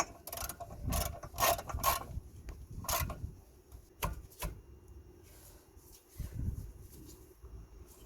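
Ratchet on an extension bar tightening a brake caliper bolt on a Kia Ceed, a series of quiet clicking bursts of pawl ratcheting with short pauses between strokes, close and faint.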